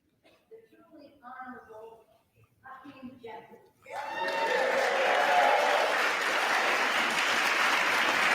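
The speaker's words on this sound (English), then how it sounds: "They're just cheering" A crowd in the House chamber during a Speaker vote breaks into loud, sustained cheering and applause after a few seconds of quiet speech.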